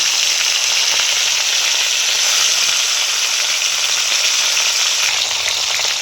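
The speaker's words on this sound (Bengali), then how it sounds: "ওই বড়ি ভাজার তেলেতেই আমি মাছের মাথাটা ভেজে নেব।" A Hilsa fish head fries in hot oil left over from frying lentil dumplings, giving a loud, dense, continuous sizzle and crackle with a steady hiss and no talking.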